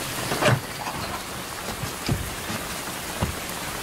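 Steady rain pours during a storm, a dense continuous hiss with scattered heavier drops and a few dull low thumps, with no voices.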